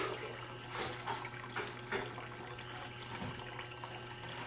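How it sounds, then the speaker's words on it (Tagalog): Tap water runs steadily into a container beside a stove where pancakes cook over a low flame, a constant close splashing stream with a few brief clinks, no speech. "Nagsasahod tayo ng tubig habang tayo nagluluto ng pancake."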